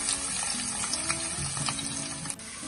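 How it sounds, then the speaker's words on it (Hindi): Onion and garlic frying in a pan for kadhi, a soft steady sizzle with faint scraping of stirring, quiet and continuous, no voices. "तो सबसे पहले हम इसमें डालेंगे प्याज और लहसुन।"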